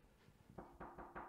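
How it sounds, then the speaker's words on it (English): Four quick, soft knocks on a hotel room door, muffled and fairly distant in a quiet room. "Oh, someone's at the door."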